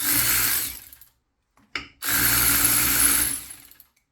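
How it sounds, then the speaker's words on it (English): Electric ratchet spinning bolts off a car during home wrenching: two steady whirring bursts of about a second each, close and fairly loud, separated by a short pause and a brief click. "We gave her the electric ratchet so she can just pop them right off."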